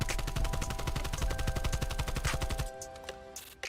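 An AK-74u fires on full auto in Black Ops Cold War, a fast, steady stream of shots for about two and a half seconds that then stops, leaving faint background noise.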